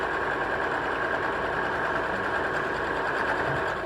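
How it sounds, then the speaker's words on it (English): A sewing machine stitches fiberfill inside fabric for a homemade snowman decoration, running in a fast, steady mechanical whir up close with no pauses. "now let's go all the way across, sewing that fiberfill inside"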